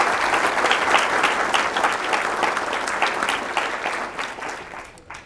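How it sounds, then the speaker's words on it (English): An education address audience claps together in a dense, sustained round of applause that holds steady and then gradually thins out toward the end. "Let's give that team and Kurt and the teachers there a round of applause"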